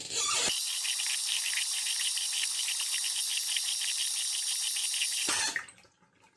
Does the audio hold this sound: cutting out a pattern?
no